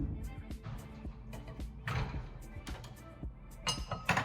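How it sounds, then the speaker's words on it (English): Small glasses clink together in a few quick, close, light taps amid soft handling clatter in a home setting. "My bestie gifted me these little glass with this."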